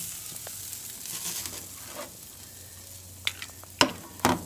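Pot roast beef sears on an outdoor grill with a steady low sizzle and light crackle, joined near the end by a few sharper pops and clicks.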